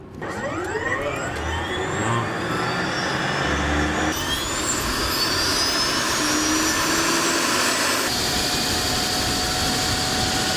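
A LifeStar aircraft engine starts up for a flight: a loud turbine whine climbs in pitch over the first seconds, then settles into a steady, roaring drone that fills the whole stretch with no talking.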